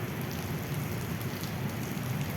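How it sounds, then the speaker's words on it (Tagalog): Heavy rain pouring down at Ayala Mall in Cavite, in a dense, continuous hiss with a low rumble underneath, steady throughout. No one speaks. "bigla lang bumuhos yung ulan"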